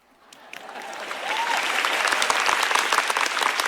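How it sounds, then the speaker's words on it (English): Audience applause at the NVIDIA GTC 2026 keynote in Taiwan for the pre-game show performers, swelling from a few scattered claps into dense, sustained clapping from a large crowd. "a round of applause for our pre-game show superstars"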